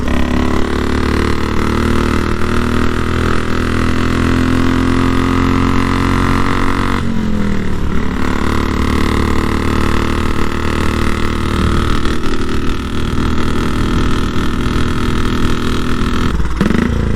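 A 1934 Velocette KTT vintage motorcycle engine runs continuously with a loud, steady exhaust drone and low rumble. Its pitch shifts briefly about midway through.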